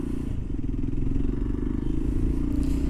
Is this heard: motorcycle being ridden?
yes